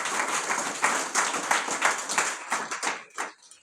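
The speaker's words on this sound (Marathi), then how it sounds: "आपण त्यांचं टाळ्या वाजून स्वागत करूया" An audience at a Marathi religious discourse session claps to welcome a speaker, a dense burst of applause that gradually thins out and fades toward the end.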